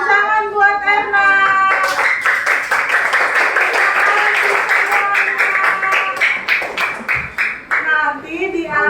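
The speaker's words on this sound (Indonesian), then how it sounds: "Tepuk tangan buat Erna." Classroom students clapping for a classmate, a dense patter of hand claps running almost the whole stretch, with a voice and a teacher's talk heard over it at the start and end.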